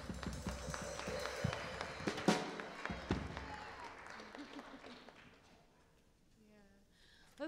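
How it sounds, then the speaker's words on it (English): Audience applause and cheering for children after a scripture recitation in a church service, a dense crowd clapping that fades out over several seconds, followed by faint chatter and a brief final burst. "Let's give them one more round of applause."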